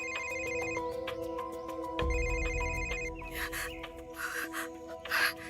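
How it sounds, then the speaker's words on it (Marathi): A telephone rings in repeated electronic bursts with a tonal ringtone pattern, moderately loud indoors, followed by rustling and movement near the end. "उचला फोन."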